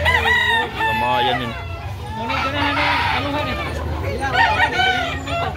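A gamefowl rooster clucks and crows repeatedly close by, its calls rising over steady background noise while people talk at length throughout.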